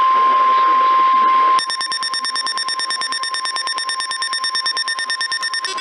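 A National Weather Service emergency warning alarm plays during an Emergency Alert System test broadcast: a loud, steady electronic tone holds briefly, then gives way to a rapid, evenly spaced series of piercing beeps.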